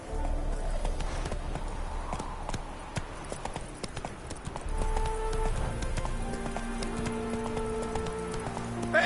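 Roach, a horse in The Witcher 3, trots with a steady clip-clop of hooves against a light rain-like background, close and continuous with no talk.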